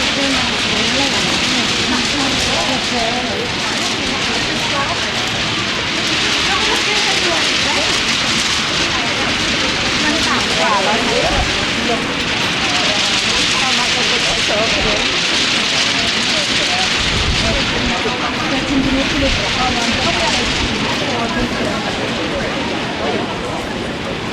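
Strong wind gusting through the open streets of York, England, a steady loud broadband rush that swells and eases across the whole stretch, with low rumbles of buffeting now and then.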